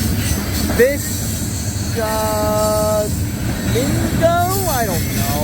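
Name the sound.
CSX coal train rolling past at night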